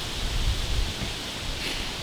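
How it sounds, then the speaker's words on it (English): Steady wind of about 15 mph roars and gusts outdoors in Missouri, a broad rushing noise with low rumbling buffets and no voices. "as you can tell, it's windy."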